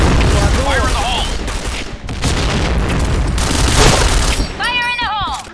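A grenade explosion in the video game Point Blank amid heavy, continuous gunfire and booming blasts, loud and close, with voices shouting over the din.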